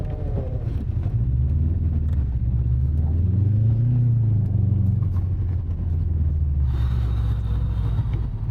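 Subaru WRX STI driving on a snow track during a winter track day, a steady low engine rumble with wind buffeting, the engine note swelling and falling in pitch, continuous and fairly loud.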